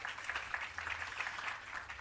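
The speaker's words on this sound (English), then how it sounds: "Another round of applause for Dr." Faint applause from an audience at a public relations launch event, a soft, steady patter of clapping hands heard at a distance with a low hum beneath.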